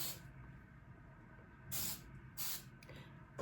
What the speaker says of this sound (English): Spray it down a little bit with some hairspray.